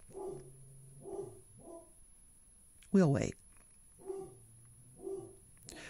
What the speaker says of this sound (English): My dogs are barking at God knows what.